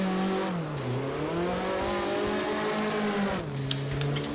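A car drifting through a corner in the racing game Assetto Corsa, its engine holding a loud, steady high-rev drone that dips and climbs with throttle changes, close and continuous with no talk.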